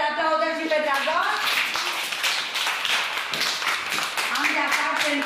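A small group claps for a child dressed as a dragon at a Halloween gathering, a lively burst of applause that builds after a woman's speech at the start and fades as she talks again near the end.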